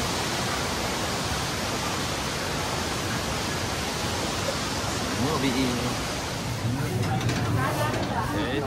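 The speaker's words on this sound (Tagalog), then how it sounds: "we're close to the waterfalls" A Taiwan waterfall roars as a steady, broad rush of falling water that stays loud and constant, with faint voices appearing briefly near the end.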